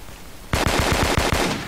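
Automatic gunfire in the game Kuboom, a quick burst of about nine loud, evenly spaced shots that starts abruptly after a short quiet lead-in.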